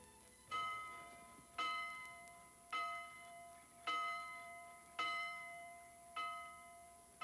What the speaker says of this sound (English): the bell tower signals the approach of the leaders as they cross Lake Mora